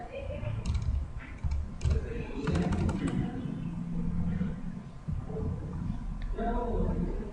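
Someone types a search into the Windows Start menu on a computer keyboard, with quick, close key clicks in short bursts over a steady background hum; no one speaks.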